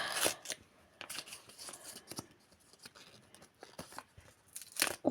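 A package of wet wipes is unwrapped and opened with close, faint crinkling, tearing and rustling of plastic packaging, coming in irregular small bursts.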